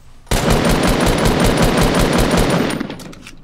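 Rapid automatic gunfire from a weapon in the Fortnite video game bursts out close and loud in a fast, even stream of shots lasting about two and a half seconds before cutting off.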